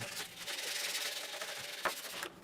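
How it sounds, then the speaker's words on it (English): Steady abrasive rubbing of sandpaper on wood, continuous with a few short strokes near the end, close and moderately loud. "And then I did a final sanding."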